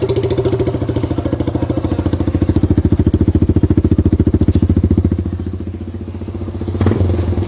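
A motorcycle engine runs through an M4 aftermarket exhaust silencer, close and loud, a throbbing, rhythmic idle that briefly quickens into faster pulses, then settles back down.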